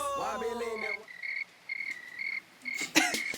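Cricket chirping sound effect dropped in as a comic silence gag on an MTV dating show, following a brief voice: short, bright, evenly spaced chirp bursts repeating steadily, fairly clear, before a louder noisy clatter near the end.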